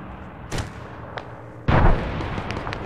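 Explosive impacts in Arma 3 as an anti-tank weapon strikes an enemy tank: a sharp burst, a fainter crack, then a heavy booming hit followed by a sustained rumbling tail.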